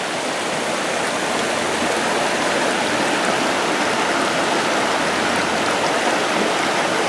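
Heavy rain pours down steadily outdoors at a gold-panning site, a dense, even roar of hissing water that stays constant and loud throughout, with no talking.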